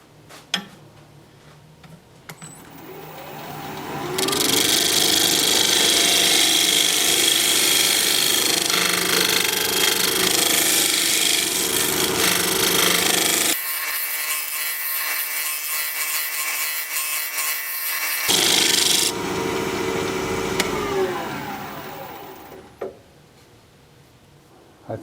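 A small scrap of wood spinning on a woodturning lathe as a tool scrapes it, giving a steady, loud rasping and rubbing with a faint rhythmic ticking, rising in for several seconds and fading out at the end.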